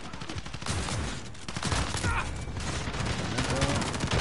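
R9-0 shotgun fire in Call of Duty Mobile comes through as a dense, continuous barrage of loud blasts and battle noise with a faint voice underneath.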